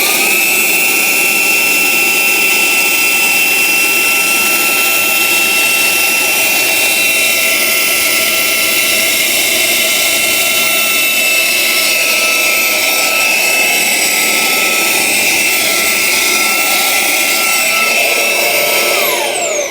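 A Ryobi 18V HP cordless stick vacuum runs continuously at full power, a loud steady high-pitched whine with airflow roar that holds unbroken for about twenty seconds, with no talking.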